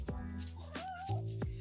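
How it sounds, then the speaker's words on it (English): A cat gives a short, rising-then-falling meow close by, with faint background noise around it. "Meow."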